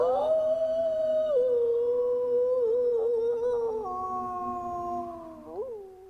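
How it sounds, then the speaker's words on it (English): A wolf howls alone in a long, sustained wail that rises and bends through several pitch glides before trailing off, loud and close with no talking. "Just howling."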